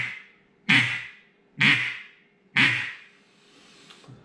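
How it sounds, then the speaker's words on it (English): Three loud, raspy quacks blown on a duck call, evenly spaced about a second apart, each a sharp burst that trails off, with a fainter fourth note at the end. "that's exactly what you do to make a quack sound"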